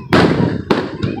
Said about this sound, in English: These are the most intense fireworks that I've ever seen